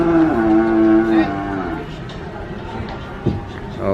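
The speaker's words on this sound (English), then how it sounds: "And then the process of unloading of the cows and cattle." Cattle being unloaded from a truck: one long, loud, close moo opens, then quieter shuffling and thumps follow, with voices in the background.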